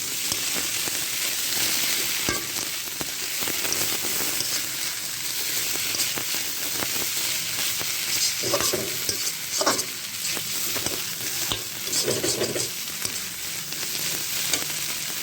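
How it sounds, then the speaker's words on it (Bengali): Potatoes and soybean chunks fry in a pan for a potato dal, a steady close oil hiss running throughout with repeated stirring scrapes and a few brief louder bursts near the end. "আলু আর সয়াবিন বড়ি এভাবে আমি আবারও ভেজে নেব 5 মিনিটের জন্য।"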